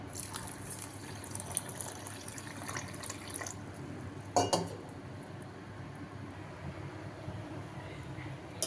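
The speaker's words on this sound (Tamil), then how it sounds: "கொஞ்சமாக தண்ணி சேர்த்துக்கலாம்" Water is poured into sugar in a pan to start a syrup for bread gulab jamun, with soft splashing and a brief clink of a utensil midway, close and fairly quiet.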